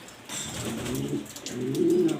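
Pigeons coo in a loft, a breeder's uncommon black-colored exhibition birds, giving low repeated throaty coos close by over a steady background with no talk.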